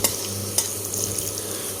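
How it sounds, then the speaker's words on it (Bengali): Steady sizzling of spices sautéing in a hot pan for a fish curry, with a few scraping stirs, close and continuous, no voices. "তো সবগুলো দিয়ে এখন ভালো করে কষিয়ে তারপর আস্তে একটু বাড়িয়ে দেব"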